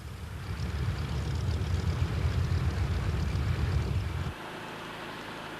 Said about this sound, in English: Key to this air assault was a brand new bomber, the B-29, the Super Fortress.